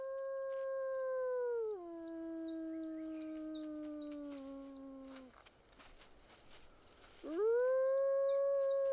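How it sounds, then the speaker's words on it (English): Several young wolves being raised by a man howl together in long, sustained rising and falling tones, loud and close, pausing midway amid faint insect buzzing before the chorus swells again. "The wolves are now almost in full voice."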